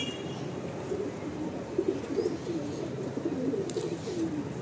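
A loft of pigeons gives low, rolling coos close by, continuous and fairly quiet against a steady background hum.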